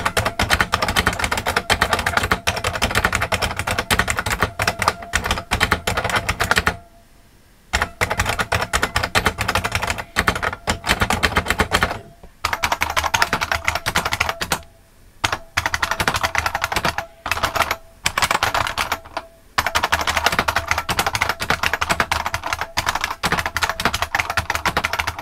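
Typing on Unicomp Mini M buckling spring keyboards, a dense run of loud, sharp clacking keystrokes close up, broken by a few brief pauses before the rapid clatter resumes.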